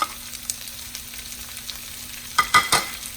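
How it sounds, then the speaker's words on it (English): Green onions, mostly the white ends, frying in a pan of fried rice with Vietnamese pork sausage and Chinese sausage: a low steady sizzle, then a few louder stirring scrapes near the end. "I'm going to add in half of my green onions, mostly the white end"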